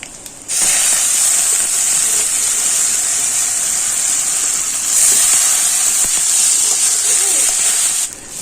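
Rice sizzles and hisses steadily in a pan with cumin seeds and raisins, a loud, continuous frying sound that fills the whole clip.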